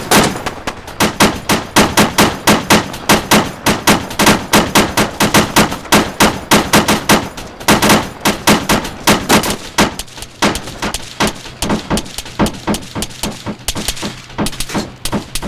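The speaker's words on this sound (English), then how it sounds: "guy here is shooting in on the base." Arma 3 gunfire, with the JSRS3 Dragonfyre and Blastcore Phoenix mods, from a firefight at a base: a steady, rapid string of loud, punchy shots and bursts, alone and close, fired almost without pause.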